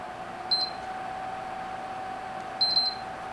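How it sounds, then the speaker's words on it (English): Two short electronic beeps from a PlayStation 3 console as its power button is held down, spaced about two seconds apart over a steady background hum. "now that we got the 2 beeps"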